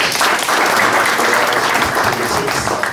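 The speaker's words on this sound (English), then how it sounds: "Please give him a round of applause." Audience applause at a business forum, loud dense clapping filling the room continuously from start to finish with no voices over it.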